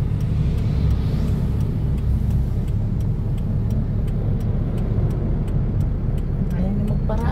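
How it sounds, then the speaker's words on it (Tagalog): Road traffic with many cars passing, a continuous low rumble of engines and tires that stays loud and close throughout, with faint ticking and voices in the background. "Daming sasakyan."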